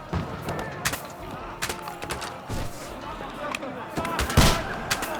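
Scattered gunshots crack out in the video game Kingdom Come: Deliverance II, sharp irregular bursts near and far amid battle noise, with shouting voices in between.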